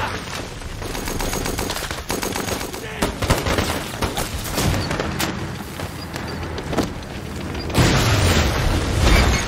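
Dense, continuous tank gunfire with heavy booming blasts, loud and close, building to a louder burst near the end.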